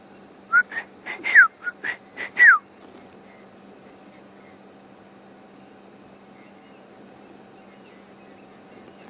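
A distant Shelley's francolin gives a short series of rasping, rhythmic calls over about two seconds in the Sabi Sand bush at sunset, then falls quiet against a steady low hum and faint background noise.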